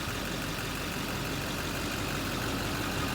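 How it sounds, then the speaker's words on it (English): A 2008 Chevrolet Silverado 2500 utility service truck with a Duramax diesel engine runs steadily, a faint, constant low rumble with no speech. "The powerful Duramax engine. Motor sounds good."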